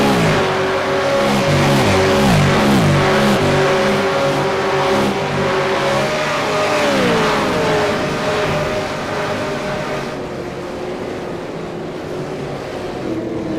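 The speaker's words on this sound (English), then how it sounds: "How good do they sound, these V8 Supercars?" V8 Supercars race cars at Interlagos roar past in a pack, loud engines revving and downshifting, pitches sliding as each car passes, fading slightly toward the end.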